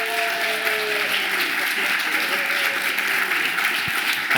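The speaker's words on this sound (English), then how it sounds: "a round of applause" A church congregation gives a round of applause welcoming Ruth Edmonds, a dense, even patter of many hands clapping steadily throughout in a reverberant room.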